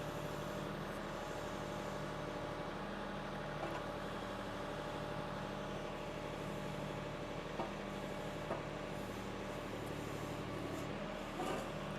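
A backhoe's diesel engine runs at low RPM while pushing garden debris on a homestead, a faint, steady low rumble with a few small knocks and clanks.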